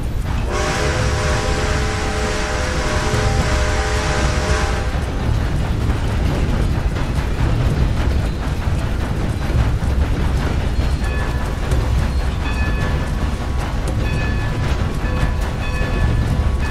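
A steam train from the game Red Dead Redemption 2 rumbles along steadily, its whistle sounding loudly for the first few seconds over a constant rolling clatter of wheels on rails.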